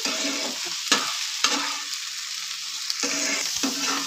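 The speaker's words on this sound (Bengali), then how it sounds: "হালকা করে ভেজে নেবো, বেশি ভাজবো না।" Spring onion stalks lightly frying in oil with a little salt give a steady close sizzle, broken by a few brief spatula scrapes and stirs, moderately loud with no talking.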